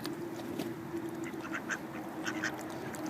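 Several ducks quack in short scattered bursts over a steady outdoor hum, moderately close, with no talking.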